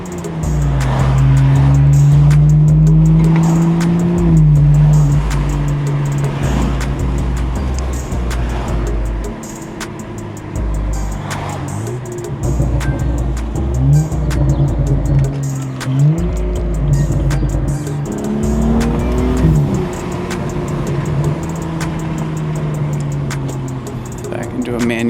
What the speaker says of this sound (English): I love that exhaust on it.